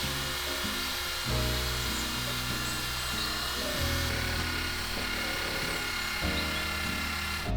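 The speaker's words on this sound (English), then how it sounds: "That nylon abrasive brush proved to be exactly the right thing for getting into those tight corners and also doing those profiled edges" A rotary tool fitted with a nylon abrasive brush sands wooden corners and profiled edges, its motor humming steadily close by while the pitch shifts a few times as the brush loads and lifts.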